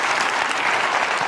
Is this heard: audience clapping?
yes